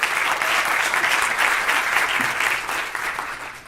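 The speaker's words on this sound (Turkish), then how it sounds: "bir alkış alabilir miyiz arkadaşlar?" Steady audience applause welcoming a speaker on stage at an inspirational talk event, a dense even wash of many hands clapping, moderately loud throughout and easing slightly toward the end.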